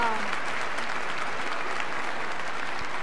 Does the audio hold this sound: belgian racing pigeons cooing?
no